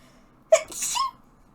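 A single sneeze, a sharp intake followed by a loud burst, close and clear, with quiet before and after.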